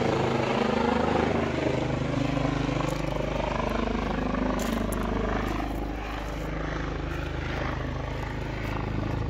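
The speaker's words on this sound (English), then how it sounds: "Suddenly, the helicopter started descending from the distance." A helicopter descends to land near a Mount Rainier trailhead parking lot, its rotor and engine making a steady, fairly loud droning roar that holds throughout with no voices.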